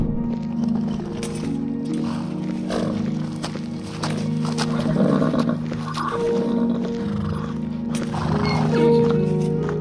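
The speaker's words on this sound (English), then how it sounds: "Horse hooves, neighing, walking, trotting, running, injured, attack, mounts, dismount, etc." Horse sounds in the video game Skyrim, with snorts and whinny-like cries over shuffling hoof movement, fairly loud and close with no talk.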